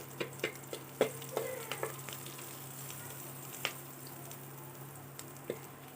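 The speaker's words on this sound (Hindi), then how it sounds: "धीमी धीमी आंच में आपको धीरे धीरे भूरा होने तक तलना है।" Food frying in a pan over a low flame until browned, a faint steady sizzle broken by several soft scraping stirs and clinks, with no talking.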